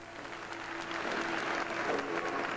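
A big crowd applauds a figure skating performance at Madison Square Garden, steady clapping that swells slightly and holds, heard from within the arena.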